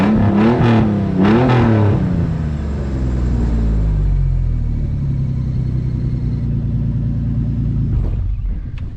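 A car with its exhaust cut off fires up and revs hard a couple of times, a loud raw rumble that settles into a lumpy, throaty idle close by.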